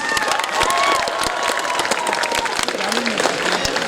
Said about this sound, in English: Can I have a huge round of applause for the Wow group, please?